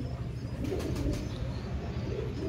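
Low, soft cooing comes from an imported female pigeon of a prized bloodline, a close, throaty murmur that repeats in gentle pulses, with a faint flutter near the middle.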